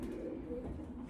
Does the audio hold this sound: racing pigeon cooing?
yes